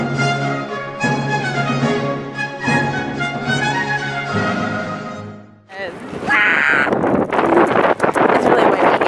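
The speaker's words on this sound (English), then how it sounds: "It's really windy here, as you can tell." Strong wind sweeps outdoors at the Palace of Versailles and buffets the microphone with loud, rough, gusting rumble in the second half. Before that comes a stretch of tonal, voice-like sound.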